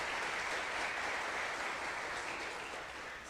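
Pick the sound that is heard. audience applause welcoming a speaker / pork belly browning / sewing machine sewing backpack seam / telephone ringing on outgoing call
audience applause welcoming a speaker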